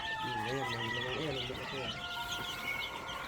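Phoenix (onagadori) chickens and their chicks clucking and peeping continuously at close range, with people talking over the flock throughout.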